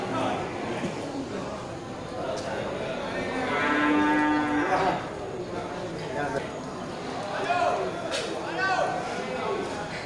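Cattle moo at a crowded animal market in Grogol ahead of Eid al-Adha, where large Limousin bulls are kept. One long, loud moo rises over steady market chatter and crowd noise, with fainter calls later.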